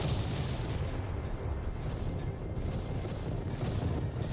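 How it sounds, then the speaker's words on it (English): Beam cannon fire from a capital warship in the 1999 space combat game FreeSpace 2 pours out as a steady, dense roar that stays constant with no breaks. "one of its beam cannons is tearing me apart"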